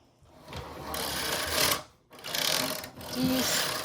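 A knitting machine carriage is pushed across the needle bed in three passes, each a loud, close rasping whir with brief pauses between strokes.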